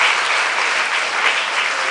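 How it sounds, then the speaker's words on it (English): Steady, dense applause from an audience of camp participants at a STEM camp, a continuous even roar of clapping that fills the whole moment without pause. "A big round of applause to yourselves."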